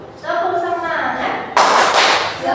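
A primary-school class doing the rhythmic 'tepuk semangat' clap together in a classroom; a sudden loud burst of many hands clapping in unison, following a teacher speaking.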